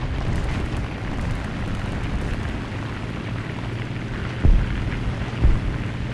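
Bombs detonate in the tank combat game War Thunder, with a deep, continuous roar of rumble and two short, muffled blasts landing about a second apart near the end.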